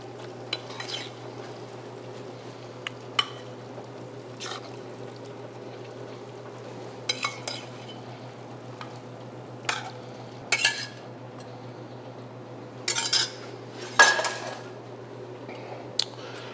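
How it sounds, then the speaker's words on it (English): Penne alla vodka is stirred in a pan in a quiet kitchen: scattered spoon scrapes and clinks come in short bursts over a low steady hum, with no talking. "stir everything together and plate"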